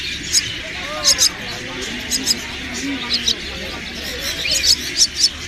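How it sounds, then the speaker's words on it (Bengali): At a bird market, myna chicks chirp in high, rapid bursts that repeat throughout. Men bargain in loud, close talk over the birds. "এটা কি ময়নার বাচ্চা ভাই রাখবেন কয়টা"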